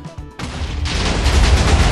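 A nuclear bomb goes off in Minecraft, opening with a few sharp cracks before a sudden loud blast that swells into a sustained, deep rumbling roar that keeps building.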